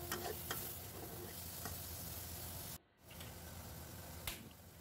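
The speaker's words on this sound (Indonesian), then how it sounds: "Kita masak kembali sampai udang dan bumbunya benar-benar matang" Shrimp and sambal cooking in a pan give a steady, close sizzle with scattered stirring clicks, cutting out briefly near the middle before resuming.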